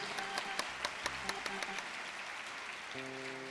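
Applause from a live concert audience paying tribute to a singer, a steady wash of clapping at moderate distance with a few sharper claps, fading into a sustained musical tone near the end.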